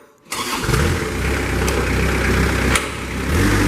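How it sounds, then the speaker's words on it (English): Kubota diesel on a 2005 Moffett truck-mounted piggyback forklift cranks and fires up at close range, settling into a steady, loud idle with a brief surge near the end; no talking. "You're going to hear that Kubota come to life."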